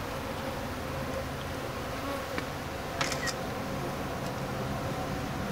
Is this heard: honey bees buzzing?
yes